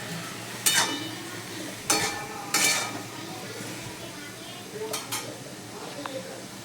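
Cauliflower curry with turmeric, masala and spice powder stirred in a pan, a few sharp scrapes and clinks of a spoon against metal, with soft sizzling beneath and quiet pauses between strokes.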